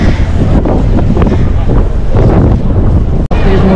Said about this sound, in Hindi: मस्त हवा चल रही है